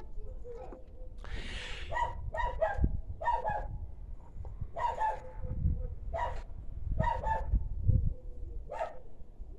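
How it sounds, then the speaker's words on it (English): Dogs bark repeatedly at a moderate distance, in irregular bursts of several barks, with faint bird calls and outdoor background noise between them. "Sounds from dogs and other animals from my neighbors"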